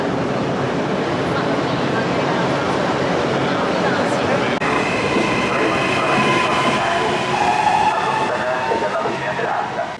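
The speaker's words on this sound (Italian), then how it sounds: "2 minuti di treno da Rio Maggiore a" A train running from Riomaggiore to Manarola rumbles steadily with a loud interior roar, and a high whining tone rises partway through as people talk nearby.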